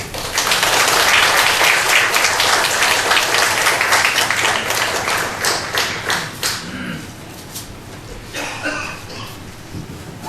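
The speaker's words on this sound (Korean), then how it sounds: "우리 목사님 나오실 때 환영의 박수로 맞아주시면 감사하겠습니다." A church congregation claps to welcome a visiting pastor and theology professor, a dense wash of many hands that starts at once, holds steady, then thins out with a few scattered claps near the end.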